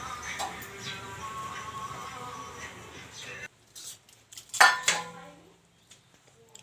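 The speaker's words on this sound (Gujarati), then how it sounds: "હાલો વાસણ ઉટકી નાખ્યું" Utensils being washed at home, with scattered clinks and knocks of dishes and metal pots, a louder clatter near the end amid quieter background and faint voices.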